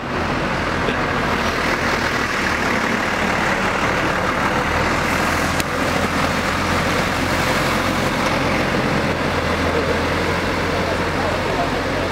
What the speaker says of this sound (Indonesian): keberangkatan bis kedua